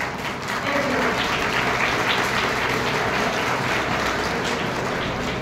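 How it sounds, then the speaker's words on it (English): Crowd applause at a school honour ceremony, a thick, loud wash of clapping that swells in quickly and holds steady without pause to the end. "Please give a huge round of applause"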